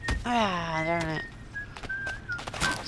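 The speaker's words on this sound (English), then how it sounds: "Stop whistling." Whistling in the video game Goat Simulator 3: a short warbling whistle, then thinner sustained tones amid thumps and clatter of gameplay, with talking nearby.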